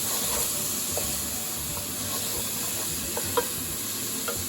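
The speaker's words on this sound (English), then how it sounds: "We're going to give it a little mix." Coriander and curry powder being stirred in a frying pan, a soft steady sizzle with scattered scraping taps of a utensil, close and alone without talk.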